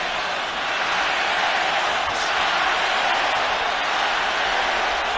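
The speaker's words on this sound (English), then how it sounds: "Crowd are getting into it." A boxing crowd roars at the Canelo Alvarez vs Gennady Golovkin fight, a steady, broad wash of cheering noise that holds at an even, loud level with no distinct voices standing out.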